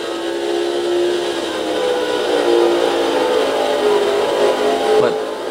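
Stock car engines roar in a steady, loud drone during a NASCAR 06 race at the Chevy Rock & Roll 400 on PS2, with pitch shifts as cars pass and no break in the engine noise.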